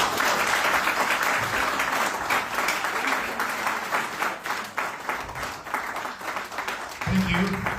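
Sustained audience applause fills a hall after a debate speech, a dense steady wash of many hands lasting several seconds, with a voice briefly breaking in near the end.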